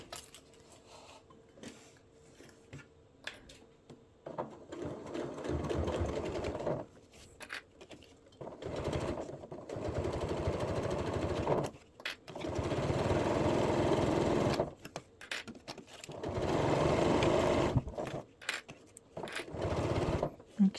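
A sewing machine stitches fabric for a coral beach bag in several loud, close bursts of rapid mechanical chatter, separated by short quiet pauses where the fabric is stopped and pivoted.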